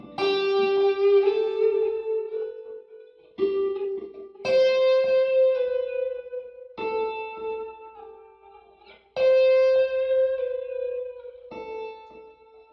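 Clean electric guitar on the neck pickup, plucked with the fingers, with boost and reverb off: a series of sustained, ringing notes and chords, each struck then left to decay, close and moderately loud with no talking.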